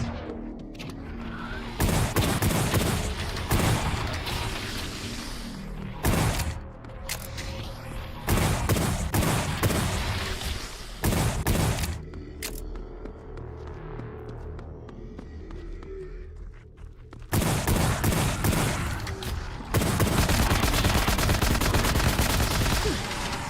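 Automatic rifle and pistol gunfire in a roguelike shooter video game, repeated rapid bursts of loud shots alternating with quieter gaps, with long sustained volleys toward the end.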